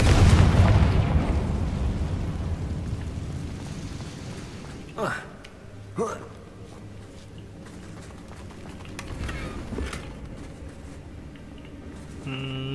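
A Confringo fire spell explodes in the Hogwarts Legacy video game. A loud burst opens and rumbles away, followed by two sharper blasts and scattered cracks over a lingering crackling background.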